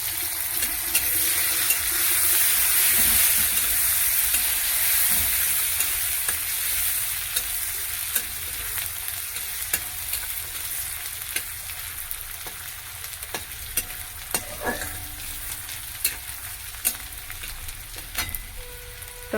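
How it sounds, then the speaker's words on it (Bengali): Garlic and grated ginger hitting browned onions in a hot pan give a loud sizzle that slowly settles, punctuated by clicks and scrapes of stirring, with no speech. "পেঁয়াজটাও ভাজা ভাজা হয়ে গেছে। এবার রসুনটা আদাটা দিয়ে দিচ্ছি, আদা ঘষে রেখেছি,"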